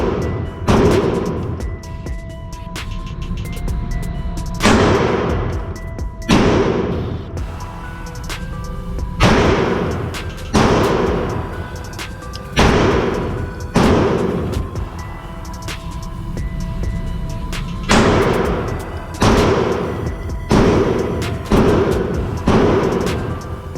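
A Glock 43X pistol with 15-round magazines fires a long series of loud, sharp shots, some in quick pairs and clusters, with short pauses and echoing decays between them.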